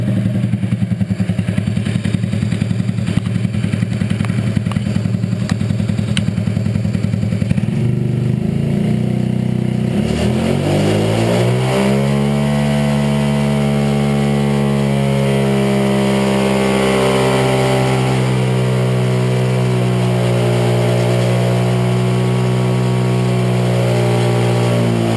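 Rat rod riding lawn mower engine running rough and loud up close, sputtering and cutting out as it starves for fuel nearly out of gas, then revving up into a steady, higher drone.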